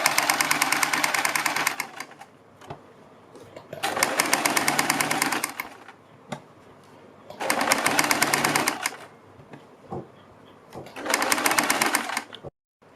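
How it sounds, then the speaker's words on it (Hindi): A sewing machine runs a stitch line along the edge of a kurti neckline, turned right side out, in four steady bursts of about two seconds each, separated by short quiet pauses. "गले को सीधी साइड को पलटने के बाद हम सबसे पहले गले के किनारे पर एक सिलाई लगाएंगे।"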